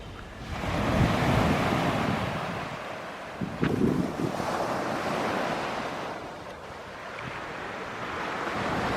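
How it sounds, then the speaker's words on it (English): Waves on Lanai beach, Ko Samui roll in and wash up the sand in slow surges mixed with wind rush on the microphone, fairly close and continuous with no talking. "So this is Lanai beach."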